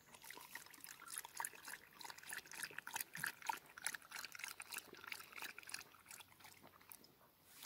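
A thirsty dog laps water outdoors on a mountain hike, with a steady stream of trickling, splashing liquid sounds, close and fairly quiet throughout.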